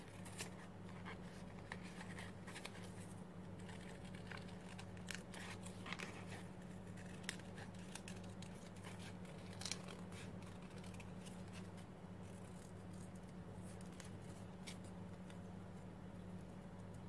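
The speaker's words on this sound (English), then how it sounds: "I'm taking nail scissors, it's easier." Quiet, small snips of nail scissors cutting paper, scattered irregularly over a steady low hum.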